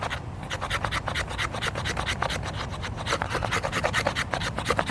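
The sharp spine of a small knife scrapes fatwood outdoors in rapid repeated rasping strokes, close and steady, shaving off resinous wood.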